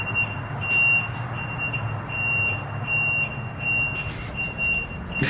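A neighbouring house's alarm sounds from a distance as a steady high-pitched tone that pulses at regular intervals. It stays faint against a low rumble of traffic or outdoor noise and keeps going through the whole stretch.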